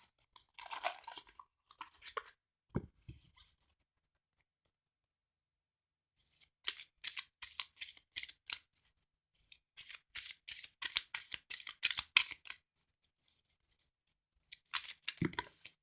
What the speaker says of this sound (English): So I am going to pull a miracle card to end this.